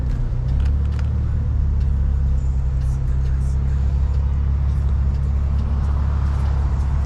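BMW 535i fitted with a 3-inch single exit exhaust, giving a steady low rumble that stays loud and constant throughout, with traffic noise around it and no talking.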